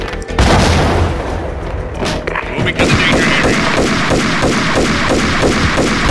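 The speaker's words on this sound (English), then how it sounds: "That's how you throw a grenade." A grenade detonates in the Max Payne video game, a loud booming blast that rings into dense crackling gunfire and impacts, with a voice talking briefly over the noise.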